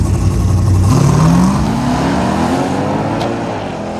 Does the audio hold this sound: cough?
no